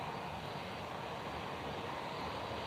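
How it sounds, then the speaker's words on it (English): An Embraer E190 or E195 jet airliner roars steadily at Lisbon Airport, a broad, constant engine rush heard from a distance without any voices. "one more takeoff and then I really need to run, and this is an Embraer"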